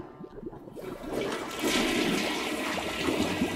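A toilet flushing in the video game I Am Fish, a loud rushing swirl of water that builds and holds steady, close up with no talking over it.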